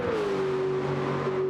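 A racing game car engine at Monza drones steadily through a single held, slowly falling pitch as it passes, loud and close, with no talk over it.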